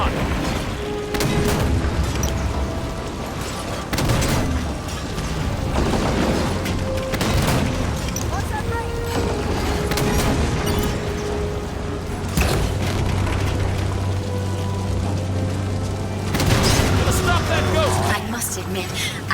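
A Halo 5: Guardians battle rages with dense gunfire, heavy booms and blasts from explosions layered over a constant, loud rumble, while in-game voices speak throughout.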